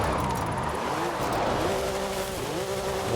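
A Volkswagen Beetle (Vocho) does a burnout in Forza Horizon 5: a steady, loud engine roar with a sustained tire squeal that rises in pitch partway through and holds to the end.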